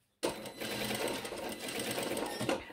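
A domestic sewing machine runs a steady marker seam on a shirt, its continuous close whirring starting abruptly and holding even throughout, with no talk over it.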